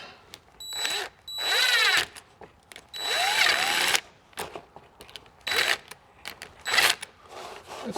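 Short bursts from a power drill tightening small nuts on a garage door, several separate revving runs of a second or so each with pauses between, close and fairly loud.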